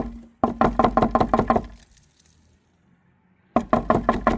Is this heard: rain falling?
no